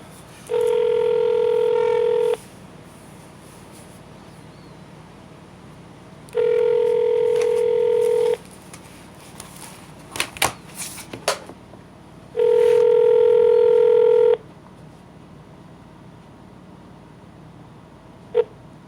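A telephone line gives three long ringback tones, each about two seconds and evenly spaced, on an outgoing call to a police financial crimes unit, with some faint clicks and handset noises in between.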